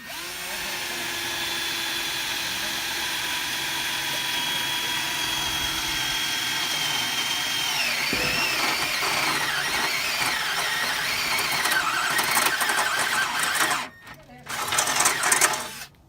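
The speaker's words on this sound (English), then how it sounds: "we're drilling out spot welds for radiator support to replace it" Power drill drilling out spot welds on a Honda race car's radiator support, a steady high whine running continuously and close, with pitch wavering under load near the end before cutting off and restarting.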